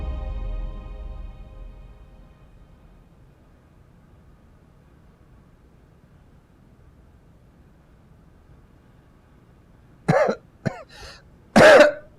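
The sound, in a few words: coughing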